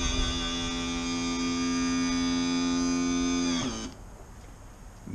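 Boat trim motor powered by a lithium battery running for several seconds, a steady electric whine with a strong tonal hum that winds down sharply and stops near the end, close and alone with no talking.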